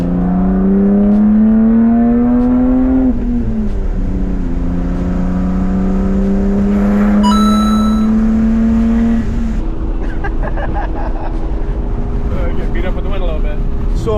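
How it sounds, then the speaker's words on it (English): Wind noise fills the cabin of a 30-year-old BMW E36 cruising on the interstate, a loud steady roar under a droning engine tone that shifts pitch, with a voice talking partway through. "So much wind noise in here."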